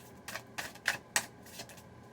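Tarot cards are shuffled in several quick, crisp riffles, each a short papery clatter, close and fairly quiet with brief pauses between.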